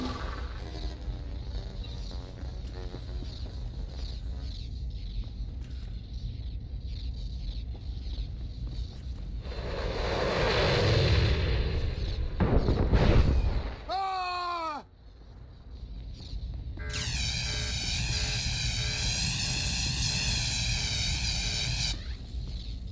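Droids sabotage a starship engine aboard the Black Talon in Star Wars: The Old Republic: a low mechanical drone swells into a rough burst of crackling and whooshing, then gives way to a sustained, wavering electronic whine.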